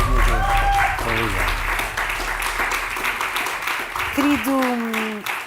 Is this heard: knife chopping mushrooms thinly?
no